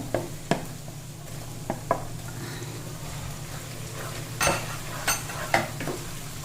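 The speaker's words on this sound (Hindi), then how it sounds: "ये जब तक टमाटर सॉफ्ट ना हो जाए तब तक हमें इसे भूनना है इसी तरह से।" Chopped tomatoes fry in ginger-garlic paste in a pan, a soft sizzle over a steady low hum, broken by a few sharp spoon scrapes and clinks against the pan.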